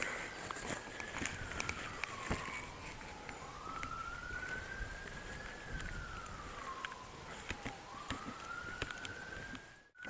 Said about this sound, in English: Apart from that police siren in the distance